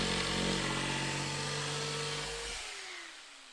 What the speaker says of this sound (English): then I will bandsaw them off